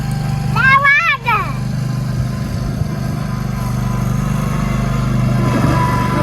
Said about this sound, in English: He's cutting the grass.